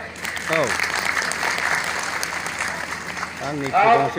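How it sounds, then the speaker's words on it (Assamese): Audience applause at a cultural exchange programme for the first BTR peace accord anniversary, a steady crowd of clapping hands running throughout, with brief voices rising over it at the start and again near the end. "আপোনালোকৰ সকলোৰ নামত আমি হাত চাপৰি মাৰিম"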